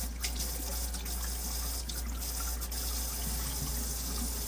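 Tap water runs steadily into a sink for a vase of carnations, a continuous close, even rush with a soft trickle throughout and no voices.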